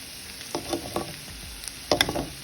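Bitter gourd (pavakkai) frying in a pan for a tamarind gravy, a faint steady sizzle broken by a few brief stirring clinks and scrapes, close up and without talking.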